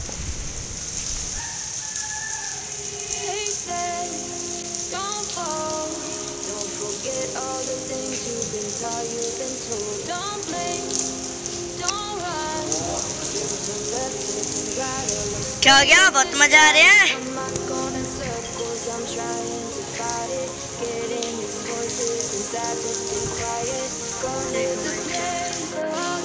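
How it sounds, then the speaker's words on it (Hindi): Heavy rain with big drops falls in a steady, dense hiss in Bharatpur, with a rooster crowing through it and a person speaking briefly. "थोड़ी देर बाद ही बहुत तेज बारिश आने लग गई भाई, देख पा रहे होंगे बहुत मोटी मोटी बूंदे हैं"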